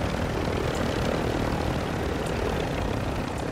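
Helicopter in the video game Call of Duty Warzone 2 DMZ, a loud, steady rotor and engine drone filling the whole stretch without pause, close and alone with no talk over it.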